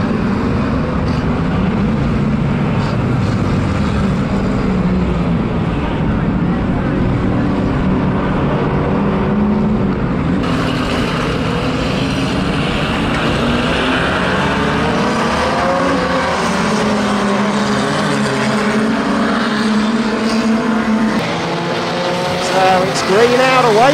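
Eighteen classic pre-1975 racing cars roar together at the start of a race at King's Lynn, a loud sustained engine drone that swells as the pack gets going, with a commentator talking over it.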